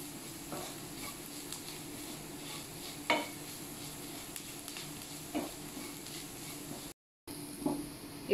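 Potatoes being stirred into a frying pan while cooking filling for a Kerala-style meat roll, with a soft continuous sizzle and a few scattered spoon scrapes and clinks against the pan.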